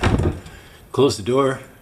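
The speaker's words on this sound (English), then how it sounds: "You close the door," A cabinet door swings shut over a roller shelf with a quick, close knock, followed by a person speaking.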